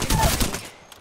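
Gunfire in Apex Legends, a quick burst of close shots at the start that fades out within a second.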